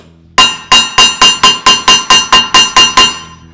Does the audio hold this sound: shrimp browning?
no